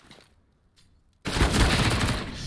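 Sudden loud burst of AK rifle fire in the real-time strategy game Dawn of War, a dense rattling volley that erupts after near silence and continues steadily without talk.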